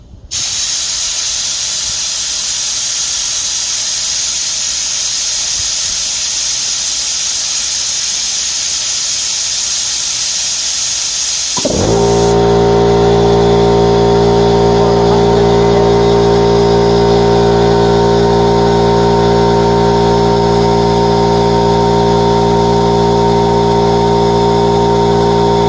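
Air hisses steadily from a Makita MAC5200 air compressor for about twelve seconds, then the motor kicks on into a loud, constant droning hum that runs to the end.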